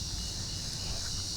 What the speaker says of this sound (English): Please ignore the cicadas.